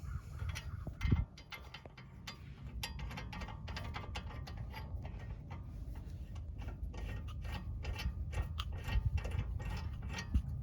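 A ratchet with an 18 mm socket tightening the brake bolts on a 2012 BMW 128i E82 during a front pad and rotor job. Rapid close clicking runs almost throughout in bursts, with a few heavier knocks.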